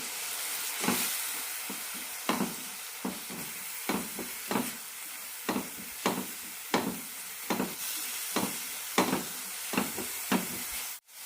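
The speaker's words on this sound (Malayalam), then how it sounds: "രണ്ട് ടീസ്പൂൺ മല്ലിപ്പൊടിയും ഒരു ടീസ്പൂൺ മുളക് പൊടിയും നന്നായി മിക്സ് ചെയ്യാം" Coriander and chili powder are stirred into hot oil with tomato for a chickpea curry, giving a soft, steady sizzle broken by a regular series of sharp scraping strokes about once a second.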